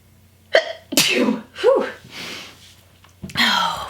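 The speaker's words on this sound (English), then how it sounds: "Oh, I feel like I'm gonna sneeze." A person sneezes close by, with breathy gasps and a sharp burst, then a short voiced sound afterward.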